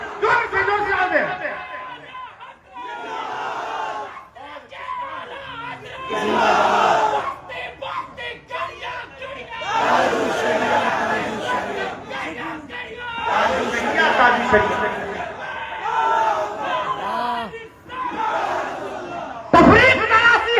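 A large religious gathering roaring back in loud chanted bursts answering a takbeer call, several surging waves of massed voices with brief lulls between.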